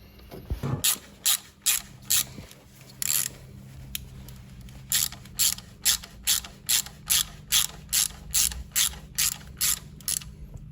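A ratchet wrench tightens engine nuts on a Fiat Bravo during an engine tune-up, in a series of sharp, close clicking bursts that are short and evenly spaced, with pauses between strokes.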